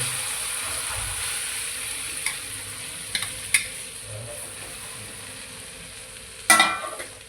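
Okra frying in a pan with homemade spice masala gives a steady, close sizzle and hiss throughout, with a few light clicks of stirring and a sharper clatter near the end.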